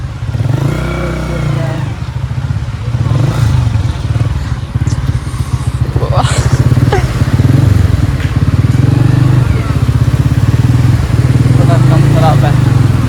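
A motorcycle engine runs steadily and loudly up close, with rising revs and some rattling, while people talk over it.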